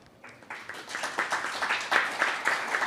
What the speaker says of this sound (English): please give a huge round of applause for Phebe-san